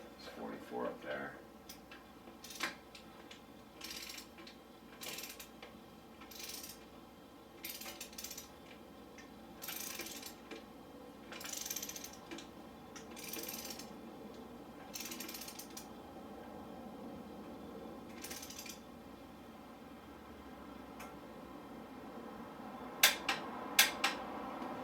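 Torque wrench ratcheting on a KTM motorcycle rear shock linkage, a series of spaced clicking bursts at moderate distance over low background hum, with some speech nearby.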